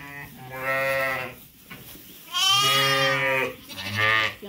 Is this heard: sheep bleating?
yes